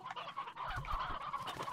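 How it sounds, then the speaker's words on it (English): A painted hen in the video game Slime Rancher clucks in a quick run of close, clear calls, with no talking over it. "And put a painted hen in here."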